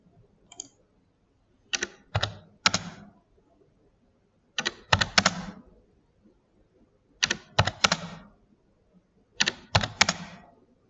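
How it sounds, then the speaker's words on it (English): Computer keyboard typing during a Revit modelling session, with a value entered and the Enter key pressed: four short, crisp bursts of rapid clicking keystrokes, separated by quiet pauses, close to the microphone with no talking. "typing in on the keyboard 20, and then just hitting the Enter key"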